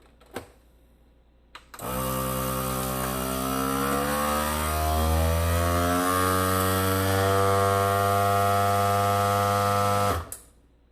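A vacuum sealer pulls air from a bag holding chicken, starting with a click. Its loud, steady motor drone runs for about eight seconds, deepening slightly as it works, then cuts off with a final click.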